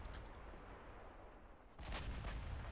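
Main guns on a battlecruiser fire in the naval game Ultimate Admiral: Dreadnoughts, a heavy booming rumble that surges near the end over constant low battle noise, faint and distant, with no talking.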